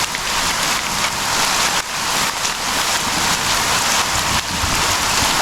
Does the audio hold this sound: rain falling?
yes